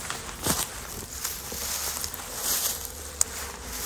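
Honeybees hum around a hive as two small colonies are merged for winter: a continuous close buzzing drone with scattered light taps and rustles.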